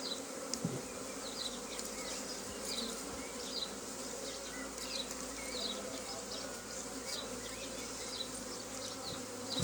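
Honey bees swarm around an open ten-frame hive during a May inspection, with a dense, steady buzz close by and individual bees droning past throughout.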